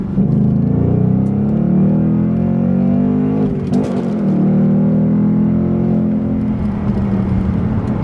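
A 2019 Ford Mustang Bullitt with a 5.0 V8 and automatic rev matching accelerates hard, its loud, steady engine drone holding throughout from inside the cabin, with one brief gear-change dip midway.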